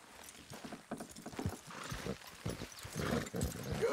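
Horse hooves clip-clop in a quick, uneven rhythm on hard ground, fairly close, with a busy outdoor background, in the video game Red Dead Redemption 2.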